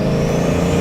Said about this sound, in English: Did you hear that switch from 2 turbos to 4 turbos?